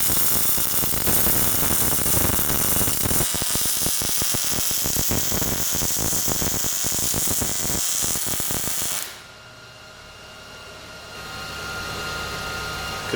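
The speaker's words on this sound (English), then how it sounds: "Good looking weld." A weld bead being laid down, with steady close crackling and sizzling that runs continuously for several seconds, then stops abruptly, leaving a lower background hum.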